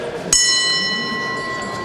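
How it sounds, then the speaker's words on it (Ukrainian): A single metallic gong strike rings out sharply at the start of a French boxing bout in Lutsk, its bright shimmering tone lingering and slowly fading. "Удар в гонг і бій розпочато"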